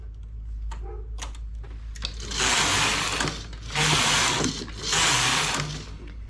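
A knitting machine working on vertical stripes and jacquard, with a few sharp clicks of needle setting followed by three loud, rasping carriage passes, each lasting about a second, at close range.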